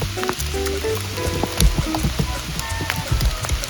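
Steady rain falls on a forest during a mushroom-foraging outing, a dense patter of drops striking leaves and ground close by, with a few louder splats standing out from the constant wash.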